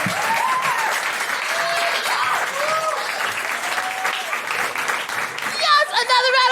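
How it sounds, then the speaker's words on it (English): Sustained audience applause at a live stand-up comedy show fills the room, dense and steady, with a host's voice calling out over it and a brief musical swell near the end. "another round of applause for Nayonica, guys!"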